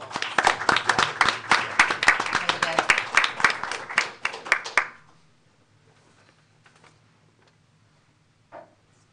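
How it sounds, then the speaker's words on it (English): Scattered audience applause at a board of education meeting, a few dozen hands clapping briskly for about five seconds before stopping abruptly, leaving near silence with a faint murmur. "Another round of applause."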